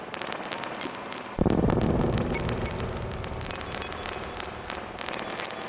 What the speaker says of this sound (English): which is just a glitch ambient.